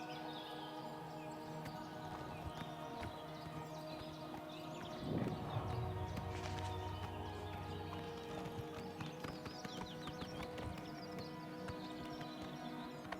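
Horse hooves trotting in the video game Oblivion Remaster, a steady faint clip-clop rhythm over ambient game music, with a brief whinny midway and no talking.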